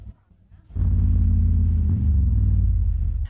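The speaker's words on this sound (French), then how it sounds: "Regarde comme cette moto est douce." A Triumph Tiger 900 motorcycle rides on the road. After a short quiet start, its engine rises into a loud, steady, close rumble that continues to the end with no talking.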